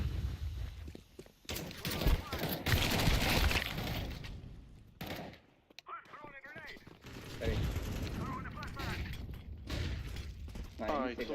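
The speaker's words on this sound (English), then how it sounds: "I throw the flashbang." A flashbang grenade thrown during a Counter-Strike match, amid dense, loud bursts of in-game gunfire and sharp cracks, with a short quieter gap near the middle.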